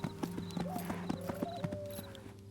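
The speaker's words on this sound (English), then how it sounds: "The sound of your horse's hoofs disturbs an old soldier from his small farmhouse." Steady clip-clop of horse hooves trotting in the video game Disciples: Liberation, at a quick, even rhythm, with a brief whinny-like tone partway through over a droning background.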